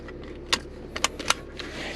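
A Lexus NX seatbelt is handled inside the cabin, with a few sharp, close metallic clicks and light rattles over a quiet background.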